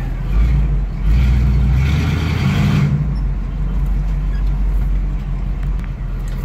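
A 1976 GMC Jimmy drives along in four-wheel high lock, its engine giving a steady, loud low rumble with a brief swell of revving early on, close and continuous with no talk.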